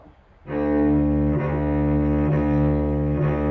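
A cello plays a slow, plain bowed bass line, a few sustained notes changing every second or so, warm and close with no voices.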